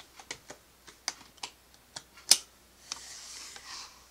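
Computer keyboard typing heard alone: about a dozen separate key clicks in an uneven rhythm, one sharper louder tap near the middle, then a soft rustling wash toward the end, close and fairly quiet.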